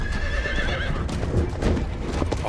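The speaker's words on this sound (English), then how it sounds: "A horse?" A white horse whinnies in a Doctor Who episode, a loud, wavering neigh in the first second followed by a jumble of clip-clopping hooves and scuffling, fairly close and continuous, with no talk over it.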